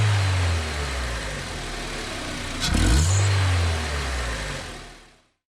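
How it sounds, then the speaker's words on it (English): Honda Civic EM2 with an aftermarket cold air intake, running steadily with a low engine drone that swells into a brief rev near the middle before settling and cutting off, no talk over it. "before it didn't make any noise and now it has a little throaty sound"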